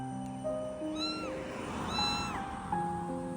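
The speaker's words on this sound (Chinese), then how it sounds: "我刚刚在那边就听见一只小猫在叫哎，" A small kitten meows repeatedly outdoors in heavy rain, three or four distinct rising-and-falling cries close to the microphone over a steady hiss of rainfall.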